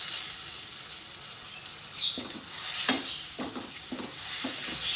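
Red chili powder and turmeric fried in oil for a curry: a soft, steady sizzle close by, broken by several light scraping strokes of a spoon stirring in the pan.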